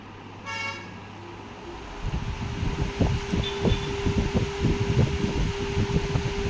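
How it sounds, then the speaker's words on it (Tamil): A Singer high-speed steel electric fan with a 1400 RPM motor starts after a brief beep and a switch click, then runs with a loud, steady whooshing hum and a rhythmic buffeting of air close to the microphone. "இந்த ஃபேனை போட்டு காட்டுறேன் பாருங்கள்,"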